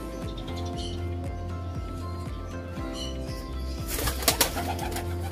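Racing pigeons coo repeatedly at close range while being fed pellets, their low, throaty calls overlapping in a steady rhythm, with a brief flurry of brighter sounds near the end.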